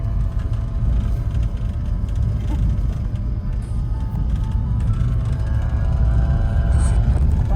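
A car cruising at about 30 mph along the fog-bound Dalton Highway, a steady loud road and engine rumble from inside the cabin with no breaks.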